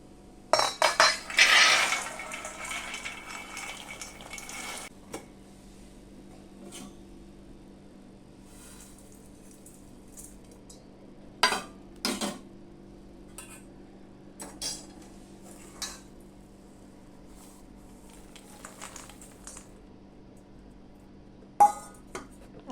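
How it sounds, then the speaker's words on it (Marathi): Sabudana chivda ingredients are mixed by hand in a large pot: a busy burst of clinking and rustling at the start, then scattered metallic scrapes and taps against the pot amid long quiet stretches. "आणि हे आता आपण व्यवस्थित मिक्स करणार आहोत."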